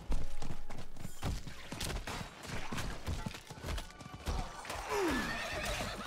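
A horse whinnies near the end over a busy mix of galloping hooves and scattered gunfire in the video game Diablo IV.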